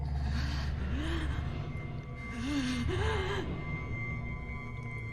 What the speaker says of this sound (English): I hear what sounds like pained breathing.